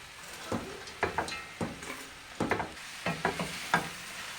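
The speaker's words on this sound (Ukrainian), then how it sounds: "А ми підсмажуємо овочі. Висипаємо до нашого баняка, до нашої каструлі капусту." Vegetables and cabbage fry in a pot for cabbage soup as a spoon stirs them, giving a steady soft sizzle broken by regular scraping knocks every half second or so, close and alone.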